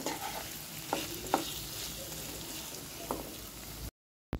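A spoon stirs potato filling for a frankie, spiced with garam masala and tomato ketchup, in a pan over a soft sizzle, with a few distinct scraping knocks before the sound cuts off abruptly.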